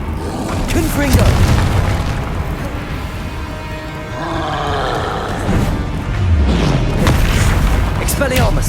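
A Confringo spell blasts in Hogwarts Legacy as a loud, continuous booming roar with rumbling explosive bursts that swell and rise again near the end, and a voice shouts over it.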